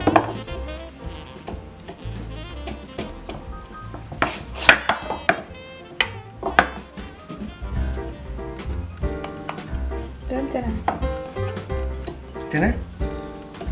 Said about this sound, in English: We're gonna cut them into smaller pieces so they can fit in our pot.